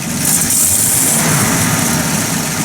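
A Buick Roadmaster engine runs loudly and close, a continuous rumbling drone with slight unevenness in its rhythm from a hesitation, no voices heard.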